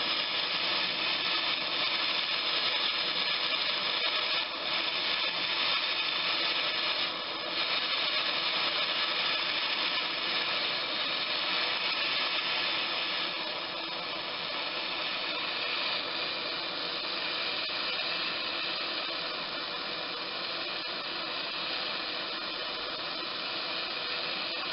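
A torch heating a car brake pipe to red hot for annealing gives a loud, steady roaring hiss that runs unbroken throughout, with only slight swells in level and no voices.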